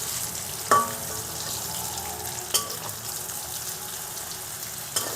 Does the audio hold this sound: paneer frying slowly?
yes